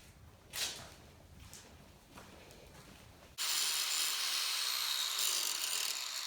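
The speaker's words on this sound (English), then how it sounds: "now I'm just gonna have to grind it down" A power tool grinds down the cut tip of a window part on a G-body Monte Carlo, first faint scraping strokes, then a loud, steady, hissing grind that runs continuously to the end, no voices.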